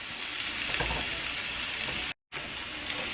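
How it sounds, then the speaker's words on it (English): Onion sizzles steadily in a pan, a constant bright hiss of frying with faint stirring scrapes, no voices, broken by a brief dropout near the end. "you want to cook it until the onion is translucent"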